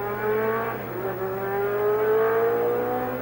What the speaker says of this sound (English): You may hear the sound of racing engines, but they're warming them up.